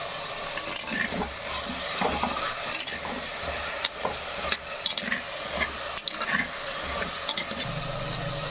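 Brinjal, drumstick and potato are sautéed in a clay pot for a dried-fish curry, with a steady close sizzle and continuous scraping, stirring strokes throughout.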